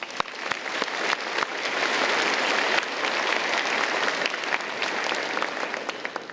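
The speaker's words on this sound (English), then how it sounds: "I want to give you a huge round of applause first." Sustained applause from a large crowd at a university engineering faculty event, dense clapping that swells slightly and carries on steadily throughout.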